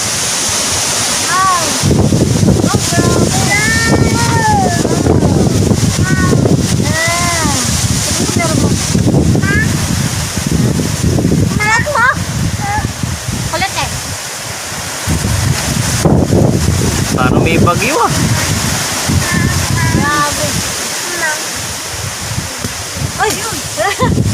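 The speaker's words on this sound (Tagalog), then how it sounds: "Ang lakas ng hangin, grabe oh." Loud, roaring wind buffets the microphone continuously, with people talking faintly beneath the gusts.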